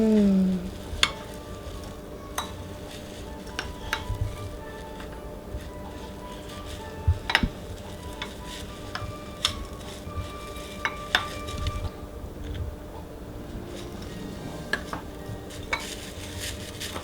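A spoon stirs food coloring into a sticky Rice Krispies treat mixture, making soft repeated scrapes and clicks against the pot at a close, fairly quiet level.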